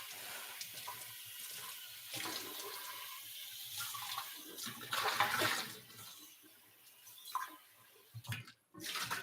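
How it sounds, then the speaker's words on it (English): Water gushes and splashes steadily as grain remnants are rinsed out of a metal beer-brewing pot, with a hissing, tap-like flow that briefly drops off near the end before surging again. "I'm going to give this a quick rinse out just to get rid of some of the grains"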